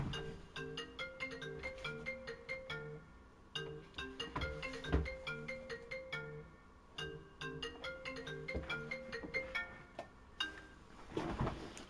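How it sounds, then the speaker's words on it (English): A phone ringtone plays a repeating melodic tune of bright tonal notes in steady phrases, loud and continuous for the whole stretch, with a brief noisy burst near the end and no talking. "couldn't find my phone. That's why it kept playing."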